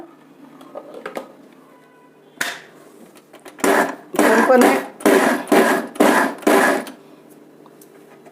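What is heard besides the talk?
mixer grinder switched on and off a few times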